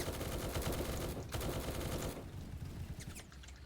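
Rapid bursts of vehicle-mounted machine-gun fire in the video game War Tycoon rattle densely, then break off and give way to scattered fainter shots.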